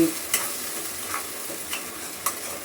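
Spinach sautéing in hot oil with spices gives a steady close sizzle, broken by a few sharp scrapes of a spoon stirring the pan at irregular intervals.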